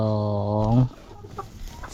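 A hen from an ailing flock that has stopped laying lets out one drawn-out, wavering call up close, followed by softer, scattered clucks and rustling.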